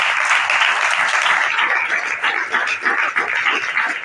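A French-speaking church congregation applauds during a sermon, with steady, dense clapping from many hands that fills the room, loud and close throughout.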